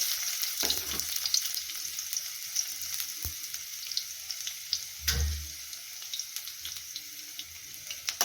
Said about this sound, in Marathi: तेल तापलं की यामध्ये टाकायचं आहे आपल्याला ठेचलेला लसूण